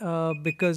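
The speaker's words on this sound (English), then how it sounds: "that was my alarm." An alarm rings with a steady electronic tone under a person talking close by, through the whole short stretch.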